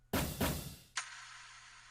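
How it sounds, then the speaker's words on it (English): A stomp hit layered with an impact sound from an amapiano beat in FL Studio: two heavy broadband thuds in quick succession, then a sharp third hit that rings out with a long decaying tail, no voices. "this is just the combination of a stomp sound and an impact sound"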